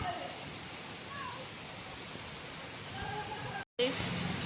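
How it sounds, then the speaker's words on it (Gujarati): Heavy rain in Rajkot falls in a dense, even hiss, with faint voices and an animal bleat in the background, then a brief cut before it resumes. "વરસાદ એકદમ ચાલુ થઈ ગયો"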